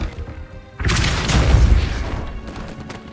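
The Depulso spell fires in Hogwarts Legacy, with a sudden heavy boom and burst of force after a quiet moment, followed by a rumbling crash that fades over a couple of seconds.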